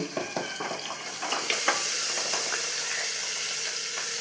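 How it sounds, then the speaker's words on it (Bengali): A pressure cooker with mutton inside steams on a home kitchen stove, giving a steady, loud hiss that thickens after a second and holds constant, with faint clatter early on. "এদিকে আমি প্রেসারে বসিয়ে দিয়েছি মাটনটাকে প্রেসারে আমি সিটি মেরে নিব"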